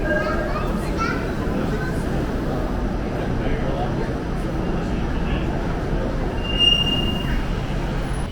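A tram rolls past at an underground tram-to-metro transfer in Toronto, with a steady, loud rumble of wheels on rails, a high squeal rising briefly near the end, and faint voices in the background.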